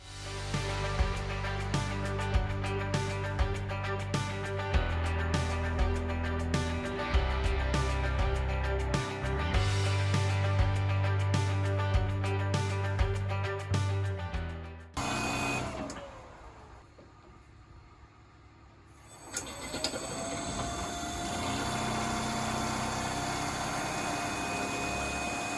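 Engine on maple sap equipment running steadily with RPMs turned up, a loud continuous motor drone that dips briefly halfway through before resuming.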